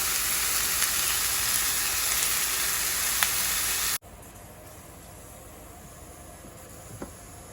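Spice powders sautéing in hot oil in a pan for green peas egg masala, a loud steady sizzling hiss that suddenly drops to a quieter, softer fry with a faint clink of the spoon near the end.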